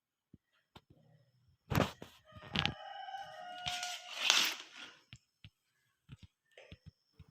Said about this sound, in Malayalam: ഈ വീഡിയോ ഫുള്ള് നിങ്ങൾ കോഴിയുടെ സൗണ്ട് കേൾക്കും